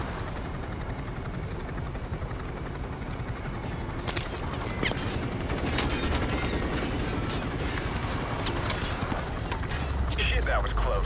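Gunfire crackles in a Call of Duty: Modern Warfare Remastered mission, rapid sharp shots rising over a steady helicopter-like drone, with bursts thickening in the second half amid radio-style voices.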